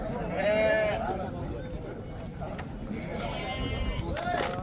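Several sheep and lambs bleat in wavering cries near and farther off at a livestock market in Kokand, over a busy crowd murmur with people talking in the background.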